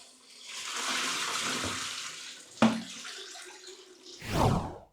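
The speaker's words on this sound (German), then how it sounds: "die sind voller Wasser und entsprechend schwer. Und das Wasser muss erstmal ablaufen." Water pours out of large POP boat fenders as they drain, a rushing splash that fades, then a sharp knock and a final gurgling gush close by.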